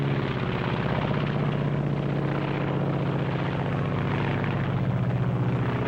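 A Japanese Zero fighter plane's engine drones loud and steady throughout, a constant low propeller hum with a grainy roar above it and no voices.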